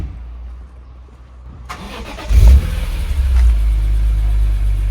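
BMW M3 engine cranks and starts with a sudden roar, then settles into a deep, loud, rumbling idle close by.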